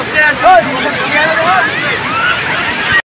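Large waves break and slosh along the shore at Old Digha beach, a continuous loud roar of surf and wind with people speaking and shouting on top.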